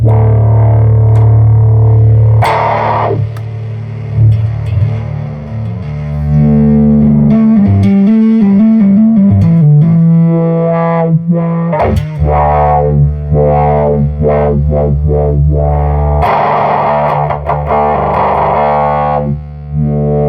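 Thick, buzzing guitar fuzz from a 1970s Morley Power Wah Fuzz pedal, long sustained low notes with swelling and sliding pitch bends, played loud and alone.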